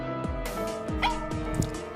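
A dog whimpers and gives several short yips and barks, close and fairly loud, a few sharp cries spaced through two seconds with high whining tones in between.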